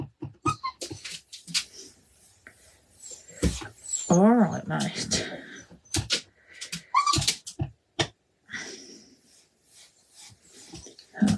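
A dog whimpers and whines in short high-pitched cries, close by, amid scattered clattering noises and a brief spoken remark.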